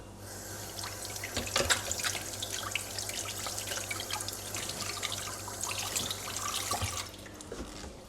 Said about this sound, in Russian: Промою руки